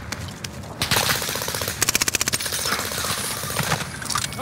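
Video game gunfire, loud close bursts of rapid automatic fire with a sharp staccato run of shots in the middle, mixed with other combat noise and no talk.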